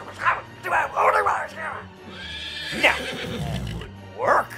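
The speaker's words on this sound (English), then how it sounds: "Dusty, now he's a smart horse, but he needs me to tell him where to go" A horse whinnies in a loud, wavering neigh in the middle of the stretch, while people talk before and after it and dog-like yaps break in now and then.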